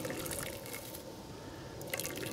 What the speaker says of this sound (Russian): и заливаем кипяченой водой